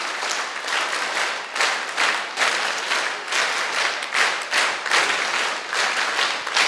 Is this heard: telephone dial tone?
no